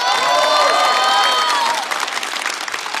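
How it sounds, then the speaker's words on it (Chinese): A studio audience at a Chinese talk show applauds and cheers for actress Liu Xiaoqing, a loud, dense burst of clapping with some whoops and a lingering tone, tapering slightly toward the end. "再次掌声送给刘晓庆。"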